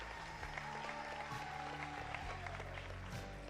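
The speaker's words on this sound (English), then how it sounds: "Ladies and gentlemen, a big round of applause to all our 14 contestants." Audience applause for contestants at the Miss Seychelles 2013 pageant, a steady, fairly quiet wash of clapping with faint crowd murmur and some background tones in a large hall.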